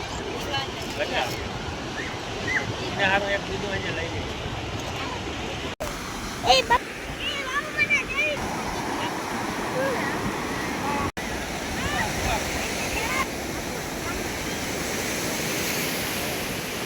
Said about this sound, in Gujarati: દરિયાના મોજા આટલા આવતા હતા